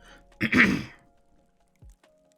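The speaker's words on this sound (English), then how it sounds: "sorry, I am clearing my throat a lot." A single close, rough throat clearing, followed by a brief quiet grunt a moment later.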